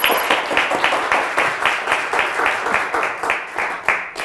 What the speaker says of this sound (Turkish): Alkışın şiddeti düştü vallahi.